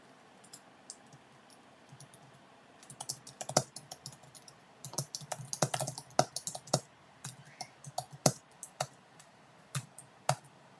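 Someone types on a computer keyboard with irregular bursts of close, crisp key clicks, sparse at first, then dense, with pauses between runs and no speech.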